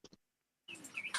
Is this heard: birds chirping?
yes